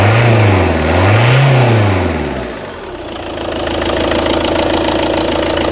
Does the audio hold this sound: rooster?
no